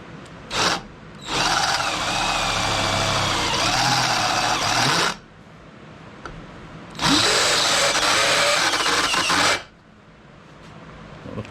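A power tool cuts into cast iron in two long, loud, steady whining bursts, separated by a short quiet pause, with a brief blip of the motor at the start.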